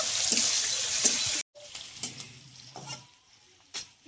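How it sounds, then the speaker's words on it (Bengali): Chopped onions fry with green chillies and five-spice in a pan, loud close sizzling that cuts off abruptly, then softer scraping and stirring strokes with a spoon against the pan. "পেঁয়াজটা একটু ভালো করে ভেজে নেবো"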